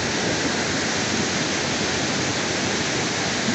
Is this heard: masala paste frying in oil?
no